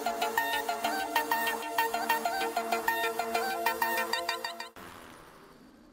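A mobile phone rings with a bright, repeating electronic melody, loud and unbroken for several seconds, then cuts off abruptly, leaving a faint fading tail.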